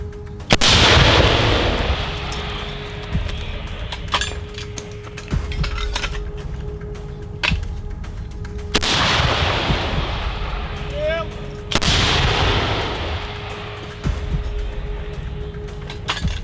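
Heavy gunfire booms sound several times at irregular intervals on a battlefield near Bakhmut, each blast followed by a long rolling echo, with people talking quietly in between.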